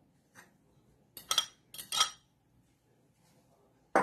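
A utensil clinks and scrapes against a dish while rice is mixed with sacha culantro for juane: a few short, sharp metallic taps in quick clusters over a quiet background.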